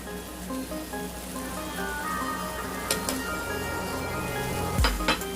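Dry spices frying with bitter gourd in hot oil give a steady, moderately quiet sizzle throughout, with a few faint clinks of a utensil near the end.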